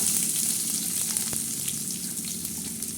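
Onion sizzles loudly in a hot tempering of garlic, cumin and mustard seeds, a steady close-up hiss with a faint clink of stirring partway through.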